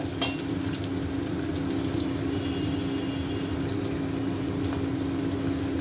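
Chicken frying in a pan after ginger, onion and garlic paste goes in, giving a steady, close sizzle with a low hum underneath that holds evenly throughout, with no talking.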